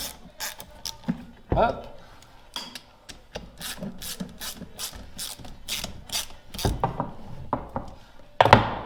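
A ratchet clicks in quick runs as it tightens a bolt on a Solex 3800 moped engine, with metallic clunks and handling noises between strokes and a brief spoken word.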